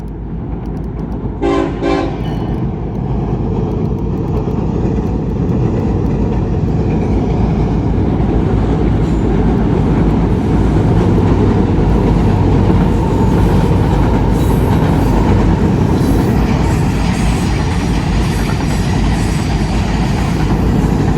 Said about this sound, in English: here comes a train across the bridge